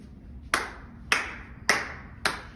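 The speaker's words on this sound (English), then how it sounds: "Clap, clap, clap your hands together." Hands clapping in a children's music class for little ones, four sharp, evenly spaced claps about half a second apart, close and clear with a short ring after each.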